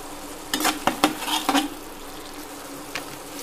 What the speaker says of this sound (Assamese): মিডিয়াম টু লো ফ্লেমতে অকনো নজলাকৈ এখিনি সাইডৰ পৰা তেলখিনি নিগৰি আহালৈকে ভাজি লম